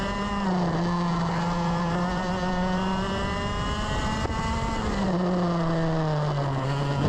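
A race car on the track at Ipswich drives past close by, its engine holding a loud, steady drone that dips and rises slightly with throttle changes, no talk over it.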